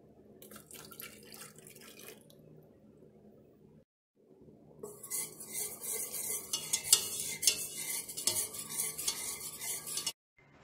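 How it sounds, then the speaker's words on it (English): Vegetable broth stirred into a keto cheese dip in a pot, a soft scraping and liquid swish that pauses briefly, then returns louder with splashy sizzling and utensil clinks before ending abruptly. "Next, you're going to stir in 1 cup of vegetable broth."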